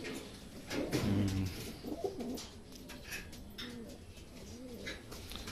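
Racing pigeons coo at a club training toss in Cabanatuan, Nueva Ecija, with a few low, throaty coos near the start and softer ones continuing over steady outdoor background noise.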